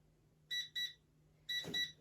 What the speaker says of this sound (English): I set a timer so I wouldn't be late to the bris.